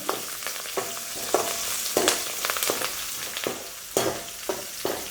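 Onion and garlic sauté in hot oil for an okra kara kuzhambu, a loud continuous sizzle broken by sharp scraping strokes of a spoon stirring the pan, with no talking.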